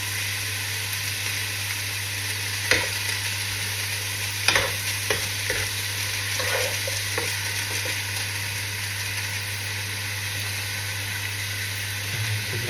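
Tomatoes sizzle and are crushed while sautéing with seasoning in a pan, a steady frying hiss with scattered scraping and stirring clicks over a constant low hum, fairly quiet.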